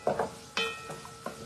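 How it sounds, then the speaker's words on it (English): Vegetables stirred in a pan frying on a high flame for Indian Chinese dishes: a few quick scraping stir strokes over a steady sizzle, close and clear. "So I'm just going to give this a stir."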